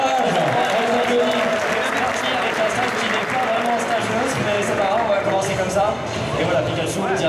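A crowd applauds and cheers in a dense, steady wash of noise while a commentator keeps talking over it, at a Super Smash Bros. Wii U grand final at Stunfest 2015.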